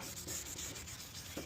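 Wet sanding a 2011 Honda Accord headlight lens with 1000 grit paper gives a steady soft rubbing hiss in close, even back-and-forth strokes, quiet and alone.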